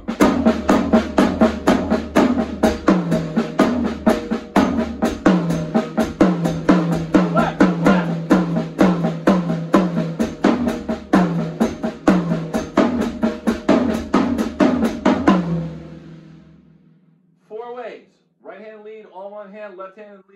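Drum single-sticking exercise with the right hand leading, played as a steady, even stream of strokes for about fifteen seconds before stopping; a few brief spoken words follow.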